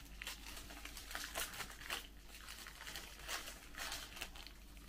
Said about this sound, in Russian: Я пытаюсь порвать этот пакетик